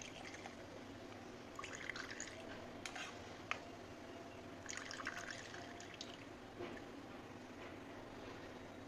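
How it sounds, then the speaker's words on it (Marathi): Cow's-milk colostrum for traditional kharvas being strained, with faint, scattered drips and small trickles into a vessel over a steady low background, no speech. "हे मी व्यवस्थित सगळं गाळून घेतलं आहे"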